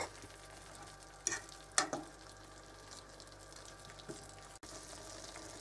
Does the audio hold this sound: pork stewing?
yes